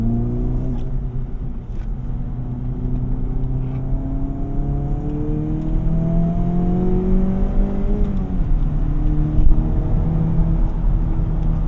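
Acura Integra Type S, a 2024 model, drives on the road with a steady engine drone and tire rumble. Its engine note climbs and falls through gear changes, audible close and loud from inside the cabin throughout with no one speaking.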